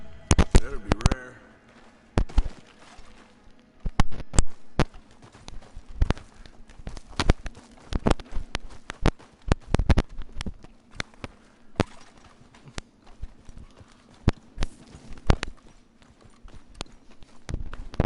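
Horse hooves clip-clop on the ground in a video game, a sparse irregular series of sharp knocks with pauses between them, fairly close, while someone talks over them.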